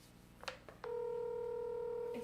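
A phone call placed on speakerphone, with a few short dialing beeps and then a steady, sustained tone coming through a small speaker, fairly quiet in the room.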